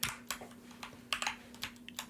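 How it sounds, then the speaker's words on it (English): Typing on a computer keyboard: a quick run of close, soft key clicks in an irregular rhythm over a faint steady hum, with no talking. "You can also just do it by typing"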